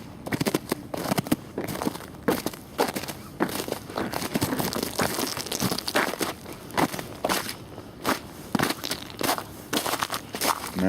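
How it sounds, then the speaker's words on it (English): Boots crunching through icy crust during an Atlanta snow storm, a steady run of sharp, close crackling steps with a brittle crunch on each footfall and no talk over them. "Man, but crunchy ice."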